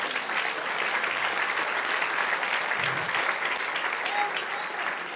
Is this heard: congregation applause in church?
yes